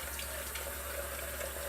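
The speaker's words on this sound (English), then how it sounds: "Add some water." Tap water runs in a steady, even stream into a sink while shaving lather is worked up with a Royal Tahitian Lime shave soap, close by and unbroken.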